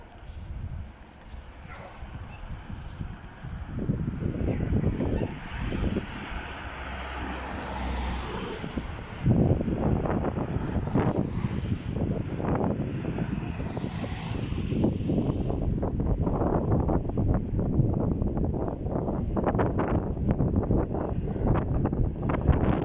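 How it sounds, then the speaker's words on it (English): Wind gusts through a quiet street in Medjugorje on an Easter Sunday morning, a continuous rushing roar buffeting the microphone. Passing traffic and a dog are faintly audible beneath it. "It's a special wind, I don't know the name they have here"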